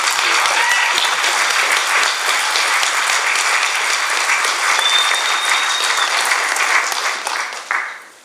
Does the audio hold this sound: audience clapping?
yes